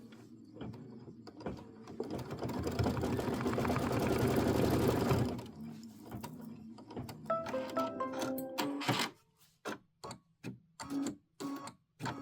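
A sewing machine stitches a traditional pieced quilt block, a steady fast mechanical whir that runs for several seconds and then breaks into short start-stop bursts, close and clear with no talking.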